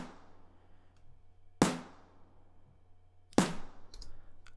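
Two layered snare drum samples, one tuned up for extra snap, strike together twice, about two seconds apart: sharp, loud cracks that each decay quickly over a faint steady hum, with no one speaking.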